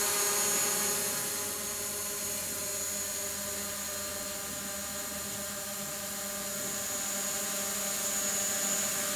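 A DJI Mavic Pro drone hovers in place with a continuous high-pitched whine and buzz from its propellers, steady and fairly close throughout.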